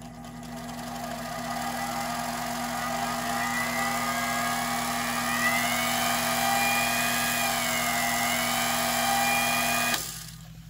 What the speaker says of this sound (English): I can run a saw like this at a slower speed